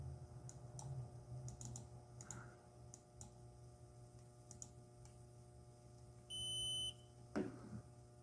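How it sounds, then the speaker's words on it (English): A MicSig oscilloscope's software gives a steady electronic beep on exit, a single sustained tone lasting about half a second, heard over light keyboard typing and clicks with a constant low hum in the background. "That's the beep it makes when you leave."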